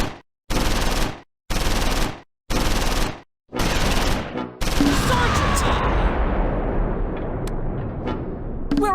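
Heavy gunfire in a Close Combat 4 battle at Houffalize in the Battle of the Bulge, December 1944: four loud bursts of rapid machine-gun fire with short gaps, then a dense, continuous roar of sustained shooting.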